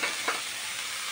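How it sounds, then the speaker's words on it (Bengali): Taro stolons (kochur loti) stirred in a hot frying pan, giving a steady soft sizzle with a brief scrape of the spatula near the start, close and moderately quiet. "কচুরলতিগুলো দিয়ে আমি এভাবে নেড়ে চেড়ে একটুখানি নাড়াচাড়া করে দিয়ে দেবো"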